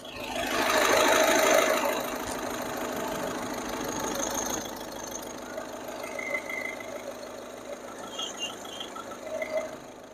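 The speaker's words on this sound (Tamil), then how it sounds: "வண்டியோட இன்ஜின் நாய்ஸை நான் உங்களுக்கு பக்கத்தில் மைக்கு வச்சு காட்டுறேன்" A Skoda Rapid diesel engine idles with the microphone held close, giving a smooth, steady running hum with a fine rhythmic clatter. It is loudest in the first couple of seconds, then settles to an even level with no talk.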